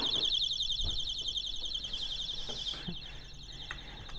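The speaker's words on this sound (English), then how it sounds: "See how long the alarm lasts." A high-pitched electronic alarm beeps in a fast steady pulse, loud and close, running continuously with faint rustling and knocks underneath.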